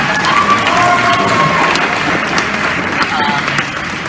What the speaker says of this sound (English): just because he sits down doesn't mean you have to stop applauding.